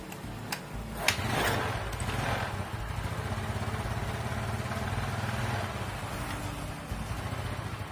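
A motorcycle engine idles steadily and close by while its carburetor throttle is being adjusted, with a low continuous rumble, a sharp click near the start and faint ticking on top.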